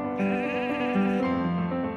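Sheep bleat loudly and up close on a sheep farm, one long wavering cry running through the whole moment.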